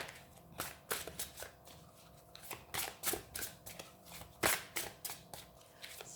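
Tarot cards being shuffled by hand to draw the first card, a steady run of crisp riffling and slapping bursts, close and fairly loud, with no talking.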